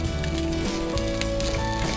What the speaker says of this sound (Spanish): Voy a seguir friendo.